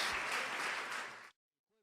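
Dense applause from a church congregation fills the clip, steady and fairly loud, then cuts off abruptly into near silence.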